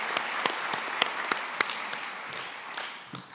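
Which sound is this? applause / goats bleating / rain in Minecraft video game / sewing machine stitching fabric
applause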